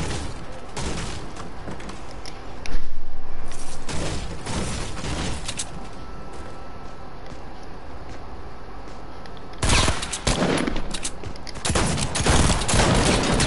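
Shotgun blasts in Fortnite ring out as sharp, loud, separate shots at irregular intervals, with a couple of quieter gaps between bursts of game noise.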